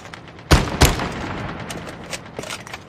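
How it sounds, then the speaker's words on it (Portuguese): Gunfire in Call of Duty Mobile battle royale: two loud, close shots in quick succession near the start, followed by fainter, scattered distant shots under a steady ambient background. "Peraí que eu tô dando tiro nos caras lá."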